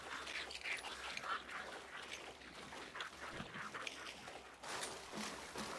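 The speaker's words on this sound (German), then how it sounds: "Hier sind Enten." Ducks quacking in a hunting video game, a scattered run of nasal calls at moderate distance over a steady wash of ambient noise, with no talk.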